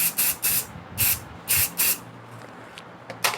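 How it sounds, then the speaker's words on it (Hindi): Hair spray hissing onto styled wavy hair in short, close, loud bursts, about five quick sprays in a row with a faint extra puff or two after. "हेयर स्प्रे करना है। हेयर स्प्रे करके"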